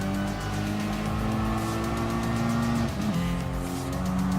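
Honda Castrol WTCC Civic Type R race car in Gran Turismo Sport, a steady loud engine drone with shifting pitch and a brief gear-change dip, tire noise beneath, continuous throughout.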